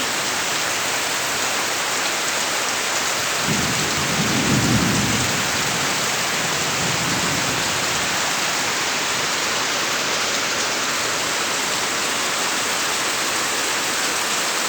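Heavy rain pours down steadily, with a deep rumble of thunder rolling through partway and fading out under the continuous downpour.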